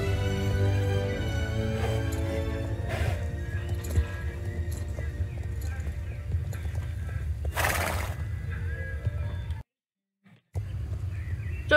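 Horse in the online riding game Star Stable neighs and snorts with clip-clop hooves over steady game ambience, loud and close, with a short silent gap near the end.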